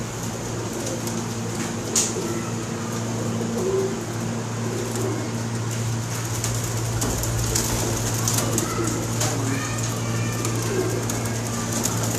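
Young pigeons at a breeding farm coo softly among steady low hum and background noise, with scattered bird calls rising and fading throughout.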